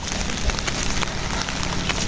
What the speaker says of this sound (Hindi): यहाँ पर अब बारिश शुरू है।